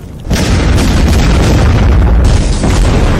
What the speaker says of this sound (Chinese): 一个炸弹就想杀我。